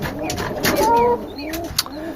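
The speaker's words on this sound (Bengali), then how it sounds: "এখন দেখাবো কবুতর এ হচ্ছে কবুতর এখানে দুইটা আছে" Pigeons cooing on a small farm, a few soft low coos close by with some rustling and faint background noise, no talking.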